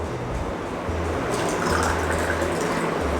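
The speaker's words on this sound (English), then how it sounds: "Now we have to add water to this." Water poured over crushed herbs and leaves to brew a homemade kashayam for cold, cough and asthma, a continuous, fairly loud rushing pour lasting several seconds without speech.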